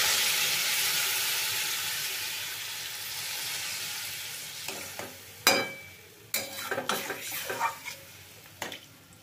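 Masala frying in a pan hisses loudly as water is poured in, the sizzle fading gradually before a spoon scrapes and knocks against the pan in short irregular strokes, close by.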